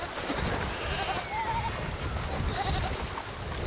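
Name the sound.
goats bleating while crossing a river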